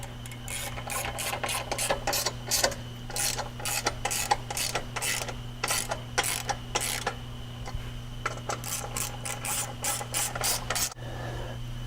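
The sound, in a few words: tightening bolts with a ratchet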